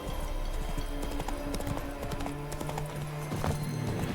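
Roach the horse trots steadily in The Witcher 3, hooves clip-clopping in a brisk, even rhythm at close range over a constant game soundscape, with a brief low snort near the end.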